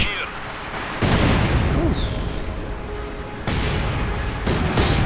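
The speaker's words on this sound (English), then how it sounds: "Quick artillery barrage." A quick artillery barrage in a real-time strategy war game pounds the battlefield, with heavy booming impacts and rumbling blasts in dense bursts that swell, fade and return.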